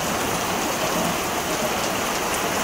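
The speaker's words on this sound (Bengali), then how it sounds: "অনেক বৃষ্টি হচ্ছে দেখেন কিভাবে পানি পড়তেছে" Heavy rain pours down steadily in a village setting, a dense, continuous hiss of water falling on surfaces and running off, loud and close with no break across the whole span.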